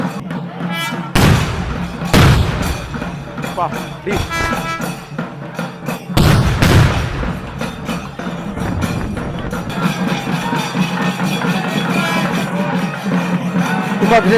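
Several sharp booming firecracker bursts cut through a noisy outdoor crowd at a temple consecration festival in Pallikonda, followed by a dense crackle of smaller pops, with voices talking throughout.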